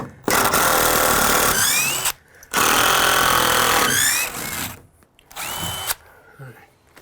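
A power drill whirs loudly in several bursts while building a shed roof, revving up and winding down with brief pauses between, close by.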